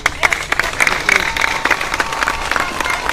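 Audience applause at a speech event, a steady patter of many hands clapping at close range for a few seconds, loud and continuous, with faint voices underneath.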